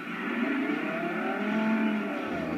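Forza Horizon car driving, its engine revving in a smooth rising and falling tone at moderate loudness, with no voices over it.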